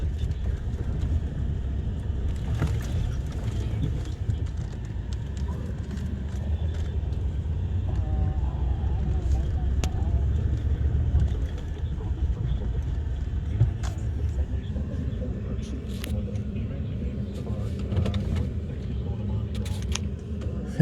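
A tractor pulling a hay baler works a field, its engine a steady low, close drone with occasional clanks and rattles from the machinery running throughout.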